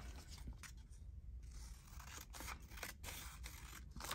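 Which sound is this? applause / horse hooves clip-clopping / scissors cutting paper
scissors cutting paper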